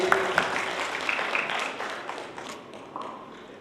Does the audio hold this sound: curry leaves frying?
no